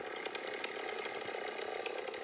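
A video-game chainsaw buzzes continuously with a harsh, raspy whine, steady and fairly faint throughout with no speech.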